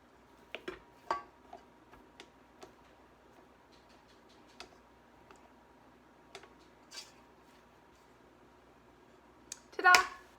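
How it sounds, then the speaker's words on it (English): Cookie dough scraped from the sides of a mixing bowl and off a stand mixer's paddle attachment: faint, sparse clicks and taps spread across the clip, ending in a louder, brief rasping scrape near the end. "we need to scrape our sides of the bowl and our paddle mixture, or paddle attachment"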